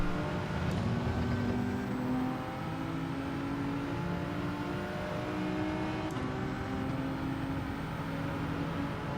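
A race car in Gran Turismo 7 accelerates hard, its engine note climbing steadily with a sustained, loud whine and a couple of brief gear shifts along the way.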